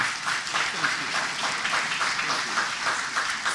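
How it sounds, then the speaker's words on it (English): An audience applauds at a congressman's awards ceremony with a continuous, fairly soft patter of clapping from a roomful of people. Some voices mingle with the sound. "Let's give him a round of applause"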